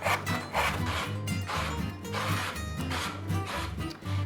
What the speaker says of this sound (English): I'm going to grate this, and then I'm going to grate a cucumber as well